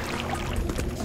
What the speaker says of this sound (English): Log is in the water now, that's great.